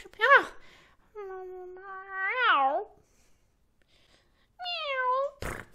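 A human voice imitates a cat, giving two drawn-out meows separated by a pause, with short bursts of breath or noise at the start and end.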